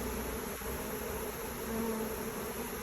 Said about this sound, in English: Bees are everywhere.